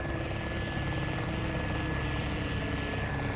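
Propeller aircraft engine from a video game, a steady loud drone with a rotor-like beat that holds evenly throughout with no gaps or voices.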